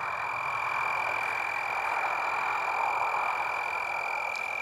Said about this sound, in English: That, my friends, is a grasshopper making some noise with its wings.